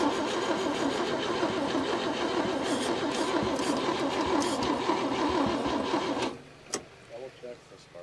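A 1961 Chevy Biscayne, left in a junkyard for over 30 years and starved of fuel, cranks loudly and steadily for about six seconds without catching, then falls quiet apart from faint clicks and a few spoken words.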